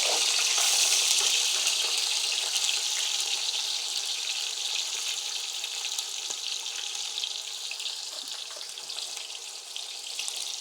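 Onions dropped into hot oil with whole spices for matar pulao on a medium flame, a loud close hiss that settles into a steady sizzle.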